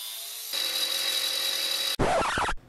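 A power tool cuts the guard for a WW2 CuMai commando dagger, a loud continuous high-pitched whine, briefly interrupted, followed by a rougher grinding burst before stopping.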